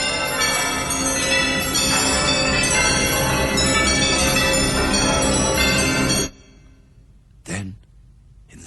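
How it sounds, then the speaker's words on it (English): Many bells ringing together loudly in a huge empty house, a dense, sustained clangor of overlapping tones that stops abruptly, followed by quiet and a brief breathy sound. "But soon it rang out loudly, and so did every bell in that huge empty house."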